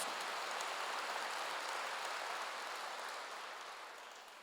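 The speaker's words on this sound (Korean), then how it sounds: "믿는 사람만 박수 한번 하세요" A church congregation at a Korean Wednesday worship service claps together in a dense, steady patter that holds evenly, then thins and fades toward the end; no voices are heard.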